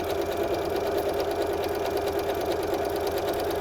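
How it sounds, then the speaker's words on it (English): A sewing machine runs a steady straight stitch through cotton fabric, its motor humming with a fast, even mechanical chatter of the needle that continues unbroken and close throughout. "I am stitching on a cotton fabric. I'm just doing a straight stitch."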